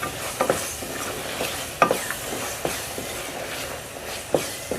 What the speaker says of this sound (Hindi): इस पॉइंट पे मैं डाल दूँगी अब मटर, और मटर को अच्छे से भून लेंगे।